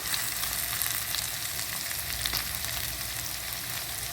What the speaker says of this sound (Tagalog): stir fry the onion in front of the chicken. Yes guys, continue stir fry for another 1 minute